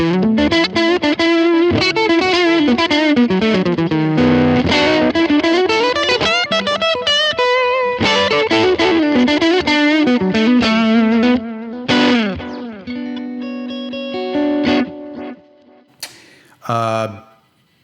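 Electric guitar on its middle pickup through a Line 6 Helix clean-to-breakup tone, strummed chords and melodic licks ringing loud with slight grit and chorus-like shimmer, fading out into a short spoken comment.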